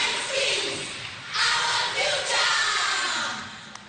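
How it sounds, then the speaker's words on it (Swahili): An audience at a Madaraka Day celebration in Wajir breaks into applause and cheering, a broad crowd roar that swells in waves and then slowly fades. "Tuwape makofi mazuri."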